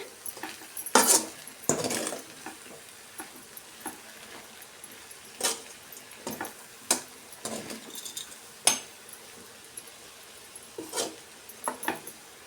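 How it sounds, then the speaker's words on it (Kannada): A utensil stirs grated coconut as it fries in a pan of plantain palya, giving sharp scraping clinks and knocks at irregular intervals. A faint sizzle sits underneath, close and clear with no talk. "ಇದನ್ನು ಒಂದು ನಿಮಿಷ ಫ್ರೈ ಮಾಡ್ಕೊಳ್ಳೋಣ ಈ ಥರ ಚೆನ್ನಾಗಿ ಮಿಕ್ಸ್ ಮಾಡಿ"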